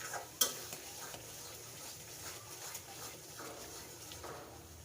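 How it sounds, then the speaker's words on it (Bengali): Masala spices frying in oil in a pan for jhal muri seasoning, stirred now and then, with a soft continuous sizzle, faint scraping strokes and one sharp metallic tick early on. "আরও কিছুক্ষণ ভেজে নেব।"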